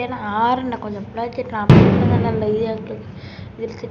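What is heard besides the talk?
firecrackers bursting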